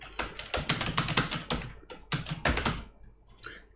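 Fast, close typing on a computer keyboard, a quick burst of clattering keystrokes with a brief pause midway and a few lighter taps at the end.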